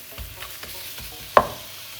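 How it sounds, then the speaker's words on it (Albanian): Minced meat fries in a pan with a steady soft sizzle, a few scraping stirs and one sharper clack partway through, close and without talk. "Pra lëm që të skuqet."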